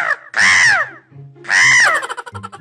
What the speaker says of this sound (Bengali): এই কাক ওটা দিয়ে যা, দিয়ে যা বলছি।